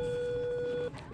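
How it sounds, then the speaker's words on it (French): A steady electronic beep from an electric dog collar remote holds for nearly a second at one pitch, then cuts off, leaving faint room noise. "Le bip, c'est que quand j'appuie"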